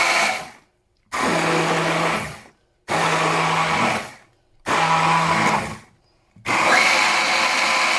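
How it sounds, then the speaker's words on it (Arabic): A kitchen blender grinds a flour and water batter mixture in four loud bursts of whirring motor, each about a second and a half long, separated by short silences. "هنا غنطحن الخليط ديالي بالبلندر"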